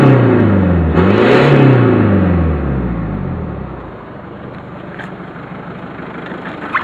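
A car engine revved hard on the throttle during a blow-off valve test, a loud rising and falling roar that settles back toward a steady idle, with a few faint clicks near the end.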